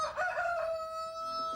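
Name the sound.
hens clucking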